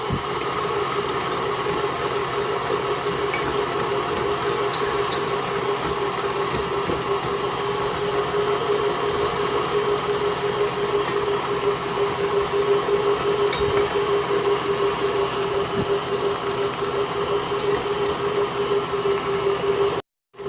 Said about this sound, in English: You're putting the speed on the mixer to 2